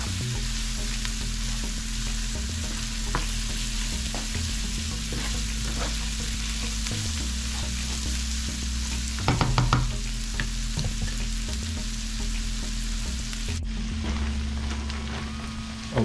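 Chicken cooks in a pan with a steady, loud frying sizzle that runs throughout, broken by a few louder stirring scrapes near the middle and a slight change in texture near the end.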